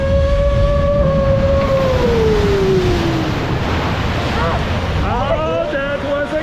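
A Splash Mountain log flume plunges down its drop at Magic Kingdom, with a continuous rush of water and wind while riders' voices rise in sliding shrieks and chatter over it.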